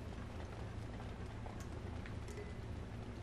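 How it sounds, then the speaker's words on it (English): Steady rainfall in the Breath of the Wild video game, a dense, even wash of drops that continues unbroken throughout with no talking. "looks like it's gonna be raining for a couple hours"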